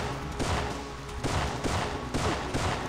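Rapid bursts of .45 caliber pistol fire from the Syphon Filter video game, three clusters of loud close shots spaced roughly a second apart over steady game background noise.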